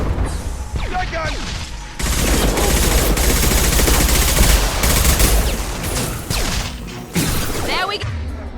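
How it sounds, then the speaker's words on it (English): Rapid shotgun blasts and heavy gunfire in the Mass Effect 2 video game, loud and close, as a dense volley with whooshes and mechanical clatter, under brief shouting. "Shotgun!"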